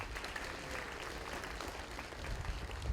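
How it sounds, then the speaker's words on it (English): An audience at a patriotic concert featuring a jazz band and a symphonic band applauds, a soft, distant, even wash of clapping that holds steady throughout. "Give these guys a round of applause."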